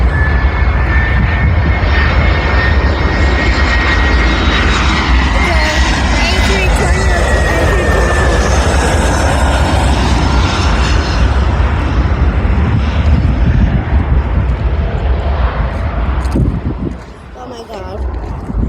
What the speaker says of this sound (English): I'm destroying my ears for this. Boeing 747.